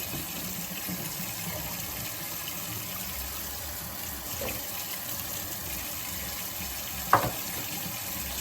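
Hot water runs steadily from a tap while a pet mouse cage is being washed out, a constant faint hiss and splash with one brief louder clatter near the end.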